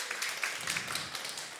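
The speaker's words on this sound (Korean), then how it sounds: "오, 이쪽 팀들 박수." A group of children and adults at an elementary church service claps for one team, a brief, dense burst of applause that fills the whole moment with no talking over it.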